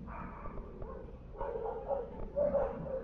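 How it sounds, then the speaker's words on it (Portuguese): Dogs bark in the distance, a few muffled yips and woofs heard during PS5 gameplay of Control, fairly faint under a low background hum. "Olha o barulho da cachorrada aí."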